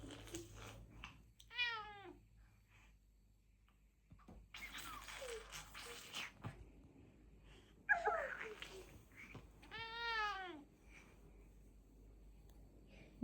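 A cat gives two short, clear meows several seconds apart, fairly close but quiet in a hushed room, with a burst of rustling noise between them.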